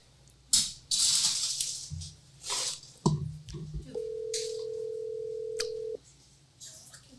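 Telephone call going unanswered: a steady ring tone sounds for about two seconds among dial beeps and brief handling noises, with no one picking up.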